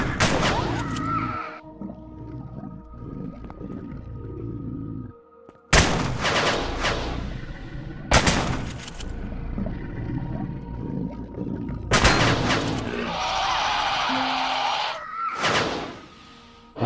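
Enemy gunfire from underground in the Empyrion space survival game comes as loud bursts of shots separated by pauses, with mechanical droning between volleys and one longer harsh burst near the end.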